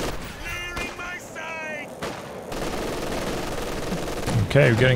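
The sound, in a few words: gunfire in Company of Heroes 2 video game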